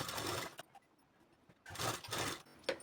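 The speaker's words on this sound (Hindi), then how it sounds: "इसे हम तिरछे पे सिलाई लगा करके पीछे का डाट देंगे दोनों साइड पर इसी तरह से" Sewing machine stitching the back darts of a katori blouse, two short bursts of rapid mechanical whirring separated by a quiet pause, close and fairly soft.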